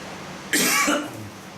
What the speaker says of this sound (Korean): 아이고, 나도 기침하네